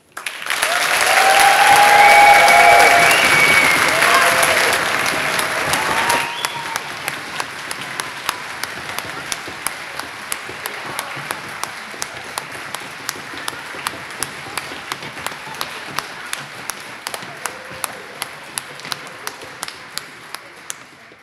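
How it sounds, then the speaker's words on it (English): A church congregation cheers loudly with voices and whistles for a group of children, then the roar fades into rhythmic clapping and foot stamping, sharp, evenly spaced beats that carry on for the rest of the clip. "give them a huge cheer, whistle, clap, stamp your feet"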